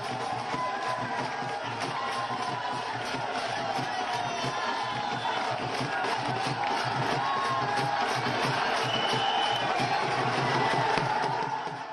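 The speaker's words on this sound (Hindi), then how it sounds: "ये भीड़ जो है ये बढ़ती जाएगी जैसे जैसे शोभा यात्रा आगे बढ़ेगी।" Large crowd at a shobha yatra procession celebration in Gorakhpur, a dense continuous roar of voices and cheering filling the whole stretch, loud and close with no pause.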